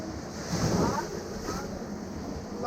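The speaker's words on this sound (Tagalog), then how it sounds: "Mahangin. Mahangin. Mahangin." Wind in Pangasinan, Philippines, rushes and gusts against the microphone over a continuous roar like surf, swelling briefly before settling.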